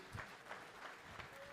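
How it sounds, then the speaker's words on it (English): Applause from the audience at a cricket networking event, steady but fairly faint across a brief stretch. "Give him a big round of applause"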